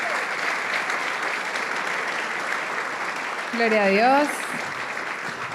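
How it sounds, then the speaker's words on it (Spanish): Church congregation applauding during a service: continuous crowd clapping throughout, with a voice briefly speaking over it near the end. "dale un fuerte aplauso al Señor"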